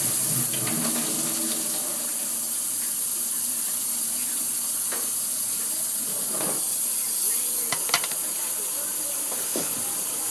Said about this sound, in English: You want to be sure you wash your mushrooms very, very good.